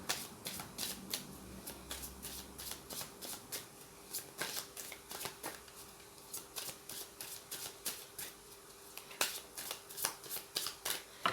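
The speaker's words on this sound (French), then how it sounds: "Vous pouvez aussi avancer la vidéo pendant que je brasse les cartes." Tarot cards being shuffled by hand, a run of crisp riffling bursts that repeat with short pauses, close and fairly quiet, with no talking over them.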